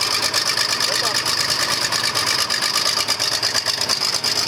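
An engine turns over roughly just after a cold start helped by an ether injection shot, chugging loud and close in an uneven, rapid knocking rhythm that never settles into a smooth idle.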